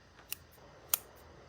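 Two quick, crisp snips of 5.5-inch Infinity scissors cutting wool, separated by a short pause, close and fairly quiet against a soft background.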